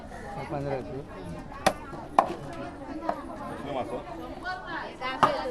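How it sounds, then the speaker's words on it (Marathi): Fish being cut with a blade at a stall in a Konkan weekly market, a few sharp, separate chopping thuds landing irregularly under busy crowd chatter and nearby voices. "मासाची कटिंग चालली आहे."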